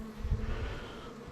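Darker-coloured bees buzz close by, a low droning hum with uneven bursts of louder buzzing, no voices present.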